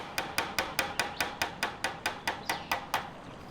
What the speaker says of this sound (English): I'll also add a few nails where they were missing.